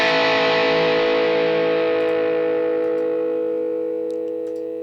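A sustained, heavily distorted electric guitar chord through a Fender amp model on a Line 6 Helix rings out loud and slowly decays, with no talking.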